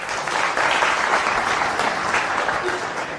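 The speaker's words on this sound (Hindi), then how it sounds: "इसलिए यदि सही लिखा हो तो ताली बजाएं" An audience at a spiritual discourse gathering applauds loudly and steadily, a dense, continuous wash of clapping hands that holds at an even level for a few seconds.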